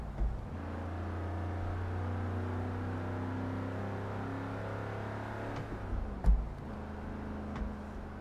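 A car engine in Forza Horizon 3 hums quietly at a steady cruise, low and even, then briefly shifts with a couple of soft clunks near the end.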